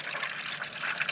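Laundry greywater poured into a homemade greywater filter, a brief steady splashing pour of liquid heard close up with no talking.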